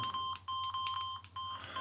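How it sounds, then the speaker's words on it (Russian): Key presses on a Samsung SGH-X160 mobile phone produce a string of short electronic beeps, several quick tones in a row, clean and close with no talking. "Все клавиши у нас нажимаются очень мягенько"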